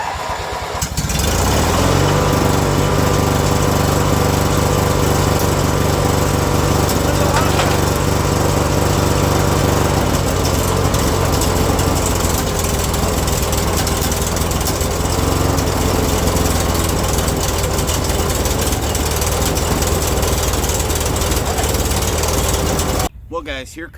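A Briggs and Stratton T.N.T. opposed-twin lawn mower engine cranks and catches, then runs loud and steady up close. Its drone shifts partway through, and it cuts off abruptly at the end.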